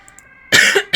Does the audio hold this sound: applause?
no